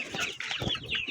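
Roosters in a backyard poultry enclosure give a quick series of close clucks and throaty calls over a brief moment, fairly loud, with no talking.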